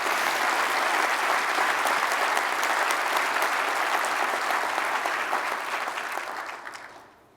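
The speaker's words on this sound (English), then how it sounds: "can I get a round of applause for Chris and Dave?" Sustained audience applause after a call for a round of applause for Chris and Dave at a leadership event, steady dense clapping that fades out toward the end.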